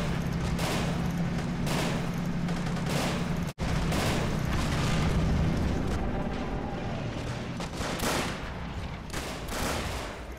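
Explosive shell fire and gunfire pound a Normandy battle in the World War II strategy game Men of War 2, where a tank is hit by a high-explosive round; dense, loud volleys of shots and blasts run almost nonstop.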